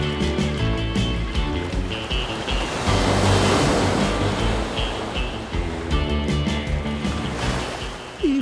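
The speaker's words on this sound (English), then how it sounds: "When the surf comes up, they head out to the break and catch some waves." Ocean surf breaks steadily at a surf break where whales ride the waves, making a continuous loud wash of roaring water with occasional wind noise. Faint music plays underneath.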